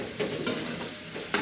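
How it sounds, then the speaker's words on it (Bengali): Potatoes fry in a pan with a steady, close hiss and sizzle, broken by a few soft scraping stirs. "আর এই যে আমার আলু ভাজা প্রায় হতেই চলেছে বন্ধুরা"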